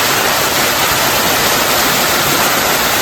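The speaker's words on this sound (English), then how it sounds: "A sweet side venture in the rain to Jones Falls." Jones Falls waterfall on the trail during rain, a loud, dense, unbroken roar of falling water filling the whole moment, close and constant with no voices.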